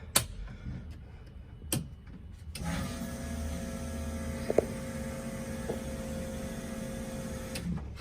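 An electric fuel pump primes inside a Cosworth Ford Fiesta, starting after a couple of knocks as a steady mechanical hum and buzz with a few faint clicks, heard close up and alone.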